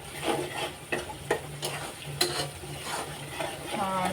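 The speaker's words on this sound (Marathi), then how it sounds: "आपण हे सगळे पदार्थ आता परतून घेणार आहोत" Chili powder and garam masala sautéing in oil for egg bhurji, a soft sizzle under intermittent spatula scrapes and light taps against the pan, close and moderate in level.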